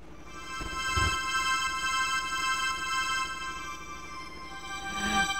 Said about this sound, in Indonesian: Vox organa.